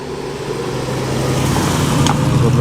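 A classic Porsche 356 at a country-house car show rolls into a car park, its engine a steady low rumble that builds slightly in loudness as it nears, close by with no talking.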